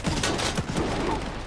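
A shotgun fires in Stalker 2 with a dense, booming blast of gunfire filling the short moment at close range and loud throughout.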